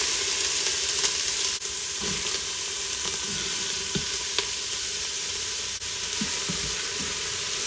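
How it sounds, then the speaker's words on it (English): Vegetables sautéing in hot vegetable oil in an Instant Pot, a steady, even sizzle with a few soft stirring knocks and scrapes near the end, no voices. "let's let that saute for about 5 minutes until our veggies are soft"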